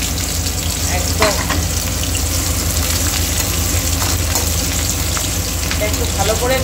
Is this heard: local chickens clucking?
no